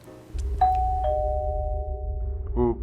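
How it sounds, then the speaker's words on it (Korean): A front doorbell rings at a home with two sustained electronic chime tones, bright and close, followed by a short buzzing burst at the end. "현관문 초인종이 울립니다"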